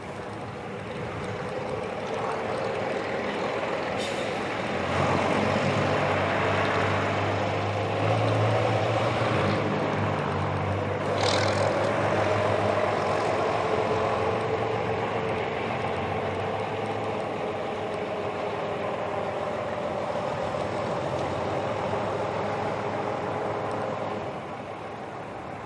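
A pair of Bristol RE buses, one in green Hanson Dorset livery and one in National Bus Company poppy red Trent livery, rumble past at a bus festival with a steady diesel drone that swells and then eases away.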